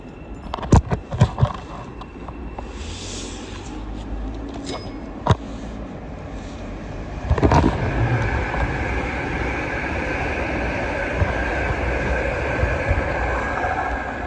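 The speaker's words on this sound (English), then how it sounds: "Another Great Northern Class 717 to Moorgate is arriving." A Great Northern Class 717 train arrives at a North London station, a steady rumble with a few sharp clanks early and a swelling rush midway that holds to the end, heard from the platform without talking.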